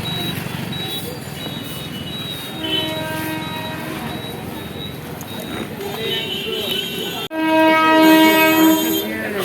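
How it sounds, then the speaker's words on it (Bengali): A train pulling into a village station, rumbling steadily with a long tonal horn blast that swells loudly near the end, heard close by with people talking nearby. "ট্রেন ঢুকছে"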